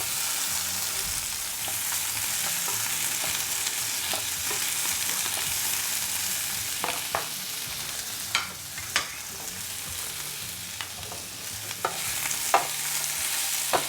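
Vegetables fry and sizzle in olive oil on a Ninja Foodi Pro XL grill and griddle, with a steady hiss and scattered sharp pops and stirring clicks, loud and close with no speech.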